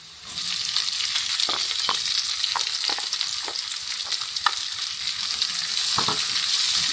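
Cut onions frying in a pan with garlic for a ridge gourd curry give a steady, close sizzle with scattered crackles and stirring scrapes throughout.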